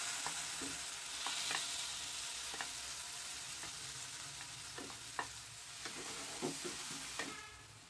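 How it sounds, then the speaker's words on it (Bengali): Prawns sauté in a little hot oil in a wok, a continuous close sizzle broken by repeated scraping and clacking strokes of a spatula stirring them. "এই যে চিংড়ি মাছটা, এটাকে আমি হালকা করে এই অল্প তেলে সাঁতলে নেব"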